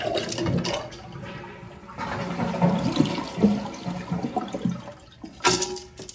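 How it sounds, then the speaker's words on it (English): A Kohler toilet flushing with its supply water shut off, the tank draining into the bowl in a loud rushing swirl that fades and then brings a short final gurgle. "go ahead and flush it to remove as much water from the tank as we can"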